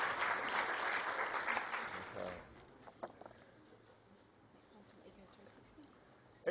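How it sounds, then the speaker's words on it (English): Audience applause at a 2013 education technology conference, a steady wash of clapping for about two seconds that then fades out, leaving quiet room tone with a few faint scattered noises. "Round of applause."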